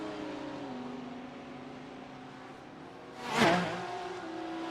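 A race car at the 12 Hours of Sebring endurance race sweeps past in one brief, rising whoosh of engine noise over a low, steady hum of distant running cars.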